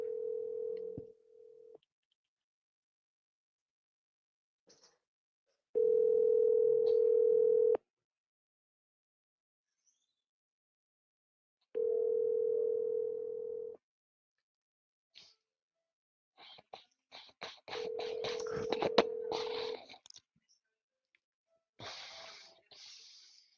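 Telephone dial tone coming through a phone line in steady bursts, separated by silences and short dialing clicks, followed by faint noises from the line, close and thin, with no talk.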